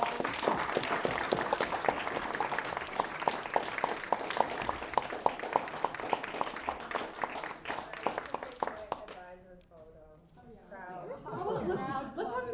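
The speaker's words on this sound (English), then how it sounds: "we're going to just give you guys a big round of applause" A large audience gives a long round of applause and cheering for student teams presenting at a school invention demo day, dense clapping with crowd chatter that thins out, leaving voices talking near the end.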